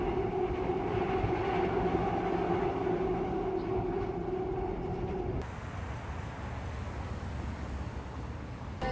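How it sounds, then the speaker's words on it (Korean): A subway train rumbles steadily along the track with a constant hiss and low roar inside the car, the tone shifting partway through as the ride continues. "잘 안 타는 지하철을 타고 퇴근했다"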